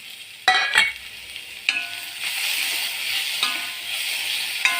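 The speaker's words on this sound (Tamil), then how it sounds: "பொரிஞ்சதுக்கப்புறம் வெங்காயம் போட்டு வதக்கிட்டுருக்கோம்" Sliced onions sauté in a hot pan with a steady bright sizzle, broken by a few sharp scraping stirs of a spoon against the metal, close and fairly loud, with no voices.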